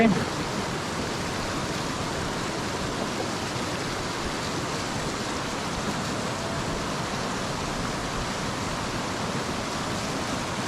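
Steady, loud roar of rushing water, a dense unbroken wash of noise from a waterfall pouring over rocks, constant throughout, at Rangpani near Jaflong, Sylhet.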